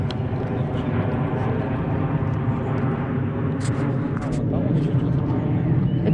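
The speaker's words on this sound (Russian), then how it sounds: "Где-то самолет летит." A passing airplane gives a steady broad low roar across the whole stretch, with a few faint clicks on top.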